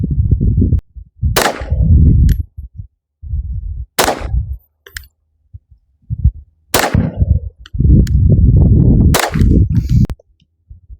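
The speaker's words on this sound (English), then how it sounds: "I'm going to shoot 3 more" Pistol fire at a 25-yard range while a red dot sight is zeroed: four loud, close gunshots spaced a couple of seconds apart, with heavy low rumble and handling noise around each shot.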